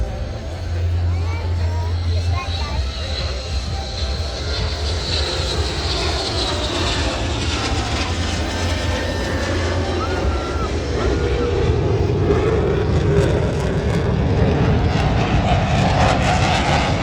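An F-15 fighter jet lands on a runway during an air force open house, its loud, steady engine roar filling the air over a crowd murmuring close by.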